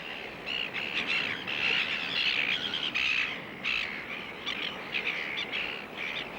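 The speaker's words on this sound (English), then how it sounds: "Showing no fear of Malcolm, the chicks pose for the camera." Fluffy seabird chicks on the Pearling Coast call continuously with harsh, repeated squawks, loud and close, in an unbroken chorus.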